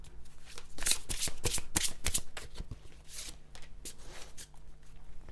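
Tarot cards being shuffled up close in quick riffling bursts, a run of crisp flutters with short pauses between them.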